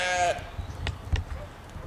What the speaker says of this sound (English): See the sheep over there?